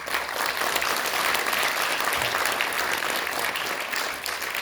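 Steady applause from an audience greeting K Political Innovation Alliance co-chair Ryu Jong-yeol at a party launch event, a dense continuous patter of many hands clapping for several seconds before tapering slightly at the end.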